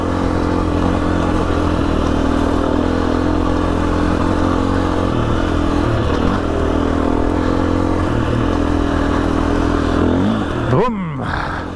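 Motorbike engine labouring steadily in third gear up the dirt track of Old Coach Road, a loud continuous drone with rough mechanical clatter throughout, ending in a brief pitch sweep and dropout near the end.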